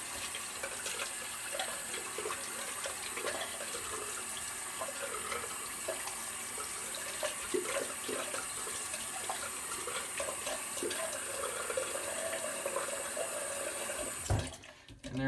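Tap water running steadily to rinse a freshly razor-shaved patch of skin, a continuous close splashing stream that ends with a brief clatter.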